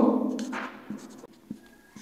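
Marker or chalk writing on a board during an accounting class, scratchy strokes with short taps, fairly close and alone, with a brief pause midway.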